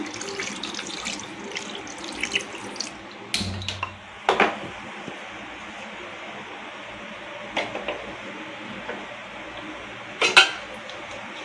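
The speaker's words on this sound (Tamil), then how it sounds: "வேக வைக்கிறதுக்கு தண்ணி சேர்த்துக்குவோம்." Water runs steadily into a pressure cooker for mutton biryani, a continuous hiss broken by a few metallic clinks of cookware.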